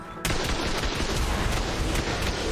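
A rocket launcher fires in Ark, opening with a sudden loud blast after brief quiet and followed by sustained rapid gunfire and explosive crackle, heard close.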